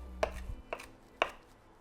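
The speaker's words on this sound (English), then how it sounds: "Taking a large knife, I'm just going to start chopping this shrimp until it is all fully chopped." Three sharp knife chops through cooked shrimp on a cutting board, spaced about half a second apart, close and distinct against a quiet low hum.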